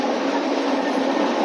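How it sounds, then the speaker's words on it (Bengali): A sleeper express train runs steadily, its continuous broadband rumble and rattle of carriages heard from inside, loud and unbroken with no talk. "ট্রেন ছেড়ে দিয়েছে 9টা 35, 13 মিনিট লেট আছে অলরেডি।"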